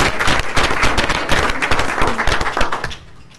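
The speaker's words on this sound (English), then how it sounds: "we need to give them a little round of applause" An audience claps for a group of school teachers, including grade-five teachers and a physics teacher, in a dense, loud burst of applause that holds steady for about three seconds before tapering off quickly at the end.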